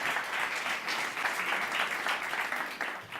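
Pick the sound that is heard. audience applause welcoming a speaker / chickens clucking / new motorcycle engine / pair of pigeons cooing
audience applause welcoming a speaker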